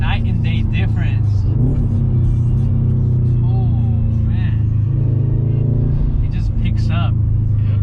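A dyno-tuned 2020 Subaru STI accelerates from inside the cabin, a loud steady engine drone that rises in pitch through the gears, with people talking over it.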